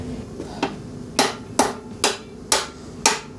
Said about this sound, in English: Let me hammer it.